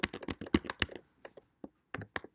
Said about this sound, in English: and then you type anything.